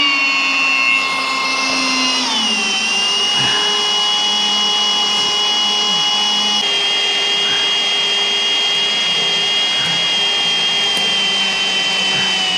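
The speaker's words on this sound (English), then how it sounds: "So we'll get a drill, number 30 drill bit, and drill some holes." A power drill with a number 30 bit bores holes in body panels held with clecos on a Cobra Daytona build, a steady high motor whine that dips in pitch early on, then runs on continuously.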